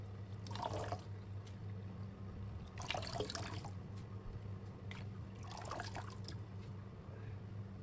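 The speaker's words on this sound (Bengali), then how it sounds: "তো আমি এদিকে ধুয়ে নিচ্ছি ভালো করে।" Moringa (sajna) leaves being washed by hand in a water-filled vessel, with three bursts of splashing and swishing spaced a few seconds apart over a steady low background hum, no talking.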